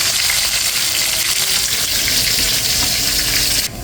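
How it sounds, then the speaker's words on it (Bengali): Continuous close sizzling of cumin and a little black cumin hitting hot oil, loud and even throughout, cutting off abruptly near the end. "মাছটা তুলে ফোড়ন দিয়ে দিয়েছি"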